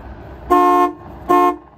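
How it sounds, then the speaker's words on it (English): Horn of a 1967 Lincoln sounding two short, loud, steady honks, close by and about half a second apart, with a faint engine-bay hum underneath. "we're gonna honk the horn again"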